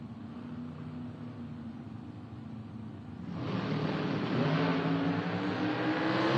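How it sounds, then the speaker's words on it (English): Nitro drag racing cars at a drag strip, a steady engine drone that swells into a louder, dense roar as they accelerate down the track, heard from a distance without voices. "Corey drops way back, coming on big time. Ron is out of the throttle, and Corey gets down there, breaks out by 13"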